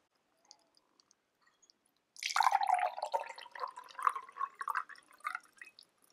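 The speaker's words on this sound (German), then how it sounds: "wenn ich das von einem Glas ins andere schütte" Water is poured from one glass into another, a bubbling, trickling splash lasting several seconds after a few quiet clicks.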